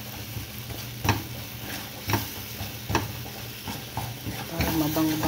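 Kusa sautéing in butter or unsalted cheese or oil, a steady close sizzle broken by several sharp stirring scrapes of the utensil at roughly one-second intervals, with faint background sounds.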